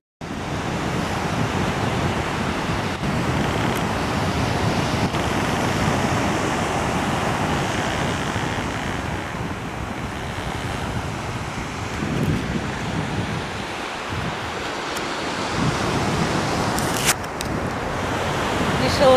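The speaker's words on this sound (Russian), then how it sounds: "Ветер прям такой ледяной, знаете." Icy wind sweeps across a beach in southern Spain as a constant loud rush and microphone buffeting, with surf-like noise underneath and a person speaking now and then.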